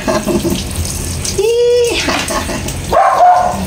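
Shower water sprays steadily and loudly while a dog is being bathed, with the dog letting out two short, rising whines over the hiss of the water.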